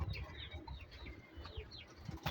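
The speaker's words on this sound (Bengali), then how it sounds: "কবুতর খাওয়া দাওয়া করতেছে।" Pigeons coo softly while feeding at their loft in the morning, with low repeated coos and a few faint chirps and wing flutters at a quiet, close distance.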